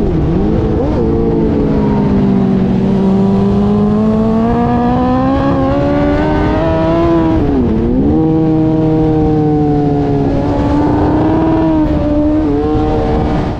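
A race car engine drones loud and continuous during a race with a broken gearbox, its pitch wavering up and down without clean gear changes; close, constant and with no talk over it.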